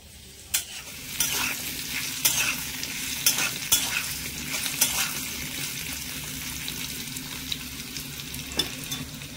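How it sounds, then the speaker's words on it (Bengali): Potatoes stirred and fried in a pan, a steady close sizzle with repeated scraping clinks of a spatula against the pan, no voices. "আলুগুলো নেড়ে ছেড়ে একটু মিশিয়ে নিতে হবে।"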